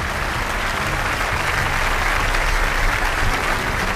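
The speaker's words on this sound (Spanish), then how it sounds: "Aplaudan al Señor de señores y al Rey de Reyes." A church congregation in a cathedral applauds steadily throughout, a dense, loud wash of clapping from many hands with no pauses.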